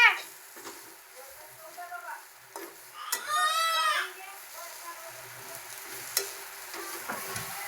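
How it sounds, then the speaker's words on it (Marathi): Dried shrimp, known as sukat, tipped into a pan of vegetable bhaji and stir-fried, a brief sizzling burst and scrape under nearby voices and faint background chatter. "आता आपण सुकट टाकूया त्याच्यात."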